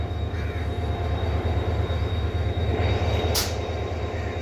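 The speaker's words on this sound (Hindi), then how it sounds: "और ये HGMU 30R8210 की साउंड, खूबसूरत साउंड।" The HGMU 30R8210 locomotive idles or runs at Kotri Junction with a steady, loud diesel throb and rumble, plus a brief high squeal near the end. No one speaks.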